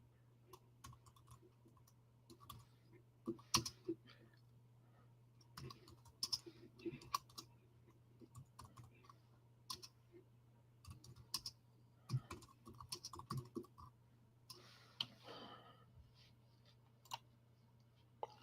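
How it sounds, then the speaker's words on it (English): Scattered keyboard typing, quiet and uneven, with irregular clusters of clicks over a low steady hum; no one speaks. "I'm typing up something here"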